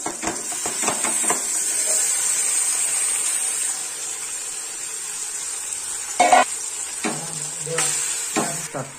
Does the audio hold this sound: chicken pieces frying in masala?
yes